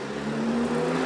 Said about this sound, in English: Oh, that's some serious backfiring.